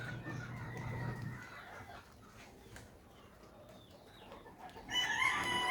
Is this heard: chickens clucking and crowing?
yes